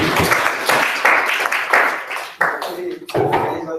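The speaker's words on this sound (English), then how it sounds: "round of applause." A small audience at a yoga workshop at a New York university gives a short, ragged round of clapping to welcome a speaker, close and uneven, with voices talking over it as it fades in bursts.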